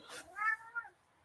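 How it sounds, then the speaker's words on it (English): A pet cat gives a short, close meow, a single rising and falling call followed by a brief softer chirp, with quiet background otherwise. "Anyway, yeah, Mr. Kitty's right here"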